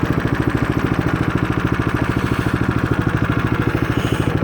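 A Craftsman snowblower engine runs at a steady idle with its auger turning, a loud, close, rapid mechanical chugging that keeps an even rhythm throughout and has no talk over it.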